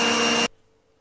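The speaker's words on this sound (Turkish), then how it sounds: "Bunu güzelce çırpacağım ilk başta." Eggs and sugar whisked for a cocoa revani, a loud, steady whirring rush for about half a second that cuts off abruptly into near silence.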